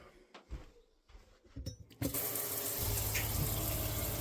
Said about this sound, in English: The water has to be running for it to work.